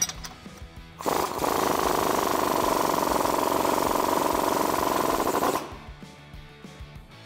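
A tool buzzes loudly and steadily for about four seconds while the lower shock bolt comes off a Jeep Gladiator JT with an 18mm socket, then cuts out sharply against a quiet workshop background.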